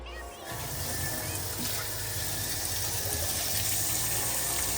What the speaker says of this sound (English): Now we're gonna add 3 gallons of reclaiming solution and 27 gallons of water